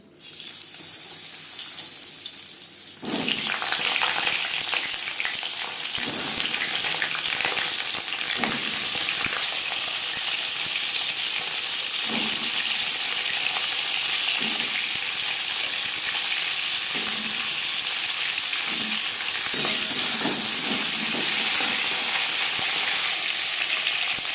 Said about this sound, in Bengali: সবার প্রথমে পটল ভেজে নেব।